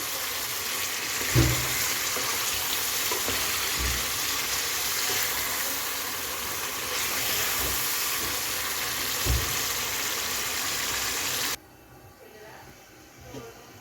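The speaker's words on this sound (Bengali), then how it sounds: "সেই যে মুরগির মাংসটাকে ভালো করে কষিয়ে নিচ্ছি" Chicken meat sizzles steadily in a hot pan, a continuous frying hiss with a few soft knocks, before the sound drops away abruptly near the end.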